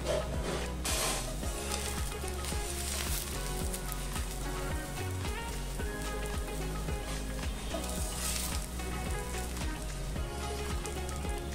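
Pesarattu green gram dosa topped with onions frying in oil on a hot pan, a steady close crackling sizzle that runs without a break, with no talk.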